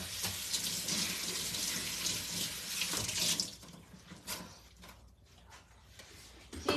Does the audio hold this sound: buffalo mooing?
no